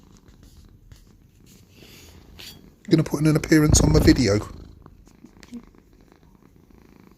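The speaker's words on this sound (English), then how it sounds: "I've recorded your purr, haven't I" A pet cat purrs close by, a low steady rumble that swells for a couple of seconds mid-clip while someone speaks to it affectionately.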